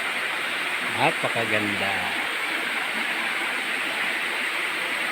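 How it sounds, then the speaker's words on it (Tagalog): Hawa Falls on Marinduque Island pours in a steady, loud broadband rush of falling water, with a person speaking briefly over it near the start. "Nandito po kami sa Hawa Falls ng Marinduque Island"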